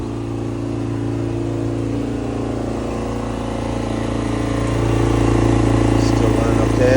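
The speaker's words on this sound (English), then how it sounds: "I heard the generator just kick up a notch." Portable generator engine running steadily on a boat, its droning hum constant and close, rising slightly in loudness and pitch toward the end as the load increases.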